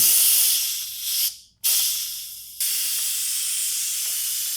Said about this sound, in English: It's a lot of steam.